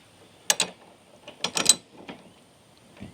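Ratchet clicking as it turns an 18mm socket on a Jeep wiper arm nut, two short bursts of quick clicks with pauses, close and fairly quiet.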